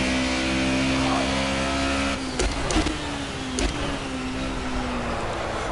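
Race car engine in the Project Cars video game, a loud sustained drone with steady tonal whine that shifts pitch midway, with a few sharp clicks over it.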